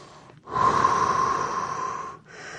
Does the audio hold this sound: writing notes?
no